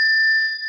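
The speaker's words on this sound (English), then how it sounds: "like if you can hear the bell like this" A single meditation bell is rung once, giving a clear, pure sustained ring close up that slowly fades, with no voices.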